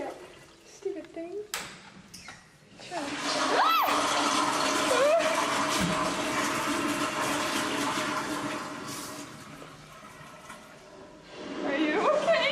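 An automatic toilet in a convention-hotel restroom flushes on its own, a loud, sustained rush of water lasting several seconds, with a person's voice speaking before and after.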